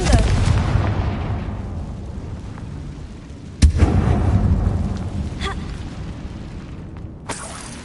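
Confringo fire spell blasts in Hogwarts Legacy: loud, booming explosive bursts, one sharp blast midway and another near the end, over rumbling game ambience.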